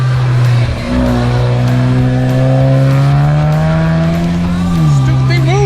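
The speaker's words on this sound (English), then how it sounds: "Turbo noises." A race car on a road course in Mexico revs hard, its turbocharged engine whining and rising in pitch close and loud, with tyre noise underneath.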